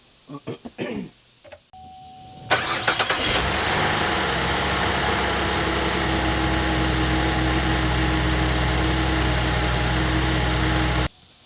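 After an oil change, an engine cranks briefly, catches and settles into a steady, loud idle that runs for several seconds before cutting off abruptly; a few knocks and clicks come before the start.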